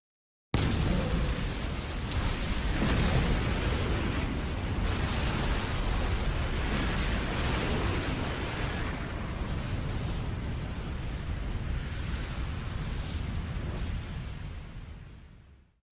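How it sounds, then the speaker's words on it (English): A huge anime nuclear-bomb blast from the Hunter x Hunter Chimera Ant arc hits suddenly, then becomes a long, loud, dense roar that holds steady for about fifteen seconds before cutting off. "Netaro uses his body as a delivery mechanism for what is essentially a nuclear bomb"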